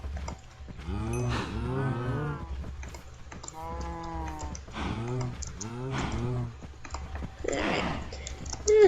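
Cows in a blocky sandbox video game moo several times while being bred with wheat. The low, drawn-out calls are close and come one after another, with light clicks between them and a faint sheep-like bleat near the end.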